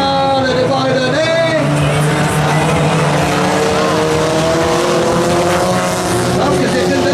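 Several four-cylinder jalopy race cars roar off the start of a qualifying heat at a dirt-track event in Plessisville, producing a loud, sustained blend of revving engines with shifting pitch, and a voice is heard underneath.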